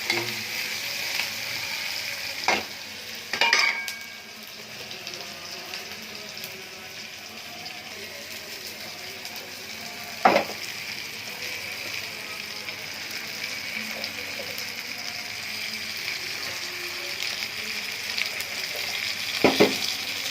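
Garlic, tomato, curry leaves and green chili sputter in hot oil as a steady, close sizzle, broken by a few sharp clicks and taps of a utensil against the pan.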